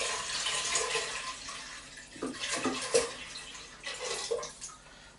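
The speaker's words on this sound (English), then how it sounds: "So let's put 2 litres into the pot, 2 litres of water." Two litres of water splash and gush into a pressure cooker pot for lentil soup, a noisy rushing pour that rises and falls in a few surges. It is close and fairly loud, with no voices.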